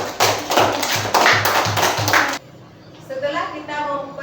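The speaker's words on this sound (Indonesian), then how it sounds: "Tepuk tangan buat si Api." Elementary classroom pupils clap together in a loud, evenly spaced rhythmic pattern of about seven beats, then stop abruptly as a voice speaks over the quieter room.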